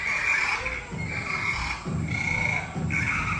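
Repeated frog croaks from an animal exhibit at a museum, a steady rhythmic croaking with several pulses over a few seconds, fairly close and moderately loud over a busy indoor background.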